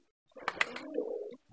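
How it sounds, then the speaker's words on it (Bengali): A young pigeon coos close by, a short throaty bubbling call lasting about a second in a quiet space. "দেখতে পাচ্ছেন পুরো বড় কবুতরের বাচ্চা হয়ে গেছে"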